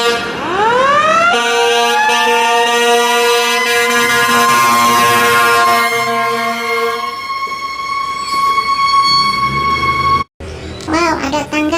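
A long toy fire engine's electronic siren wails loudly and steadily, its rising tone holding a warbling pitch for most of the span, then breaks off briefly and returns with faster chirping toy-siren sweeps near the end.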